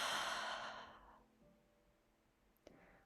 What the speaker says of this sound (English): open the mouth and exhale